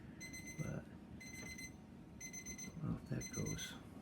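An electronic alarm on a Masterbuilt smoker beeps in repeated bursts of high, evenly spaced tones, fairly faint over a background hiss with some low clatter and handling noise.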